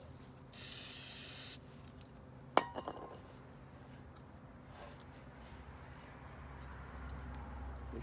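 Ether starting fluid sprayed from an aerosol can into the carburetor of a neglected old Briggs and Stratton generator, one steady hiss lasting about a second, then a sharp metallic clink and a few faint knocks.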